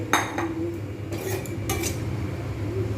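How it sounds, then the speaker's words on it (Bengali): A utensil scrapes and clinks against a pan while peanuts and green chilies are mixed into fried flattened rice. Scattered metallic knocks and short scrapes sound close, over a low kitchen hum, with no talking. "এবার শেষে আমি মিশিয়ে দেবো বাদাম আর এই যে কাঁচা লঙ্কা"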